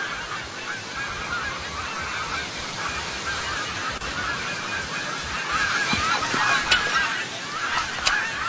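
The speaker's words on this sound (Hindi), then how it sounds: "ये चिड़िया किसकी है?" A bird honking like a goose, its harsh calls repeating over a dense, noisy background that persists throughout with no pauses.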